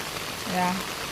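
Soft rain falls outdoors as a continuous, even hiss, with a faint short tonal sound rising briefly in the middle.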